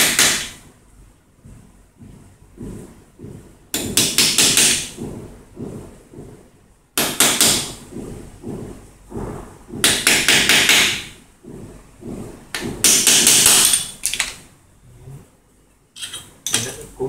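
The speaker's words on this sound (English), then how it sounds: "And we start to hammer it." Sharp metallic hammer blows ring out in rapid bursts, with quieter taps in between, close and loud, on the metal parts of a small injection mold.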